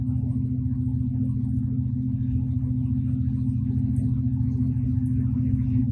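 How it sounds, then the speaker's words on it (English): Steady low rumble of wind buffeting a vehicle cruising along a highway on a sunny, windy day, continuous and loud with no voices. "It's a little windy out there here though."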